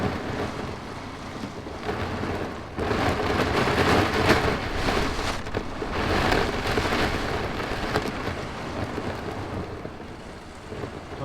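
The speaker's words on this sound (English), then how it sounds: "we just had like a sudden downpour" Sudden heavy rain downpour drumming steadily at a campsite, loud and continuous with a surging middle section, no voices.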